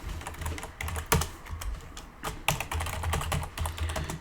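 Typing a code comment on a computer keyboard, with steady clustered keystrokes and a few sharper key hits, close and alone with no talk.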